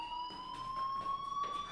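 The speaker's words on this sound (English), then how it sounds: "do you hear that fire alarm?" In the game Life is Strange, a fire alarm sounds as a steady electronic tone that slowly rises in pitch, fairly faint and continuous over a soft background, with no talking.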